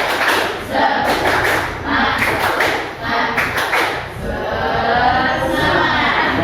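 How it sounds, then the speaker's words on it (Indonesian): Students in a classroom perform a spirit clap, bursts of rhythmic group clapping in repeated patterns with shouted voices, loud and close, ending in a longer wash of noise. "Yuk, tepuk semangat."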